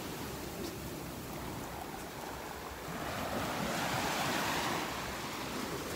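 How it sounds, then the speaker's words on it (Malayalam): Rough sea waves crash onto the shore in a continuous broadband roar, building to a louder surge midway, with wind buffeting the microphone and no voices. "കണ്ടില്ലേ കടലിന്റെ അവസ്ഥ ഇതാണ്"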